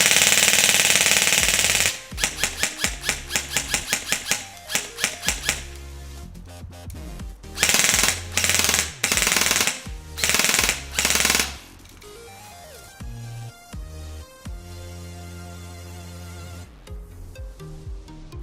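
An airsoft HK416A5 rifle firing full auto at a range, several loud rapid bursts of crisp mechanical clatter with brief pauses between them, close and alone.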